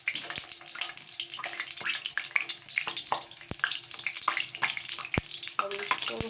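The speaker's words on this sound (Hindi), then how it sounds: "ऑयल अब गरम हो चुका है। इसमें मैंने ये प्याज एक एक करके फ्राई होने के लिए रख रही हूँ।" Onions are laid one at a time into hot oil in a pan for street-style pan fry, giving a steady close frying hiss with a few sharp clinks and taps throughout, and no talking.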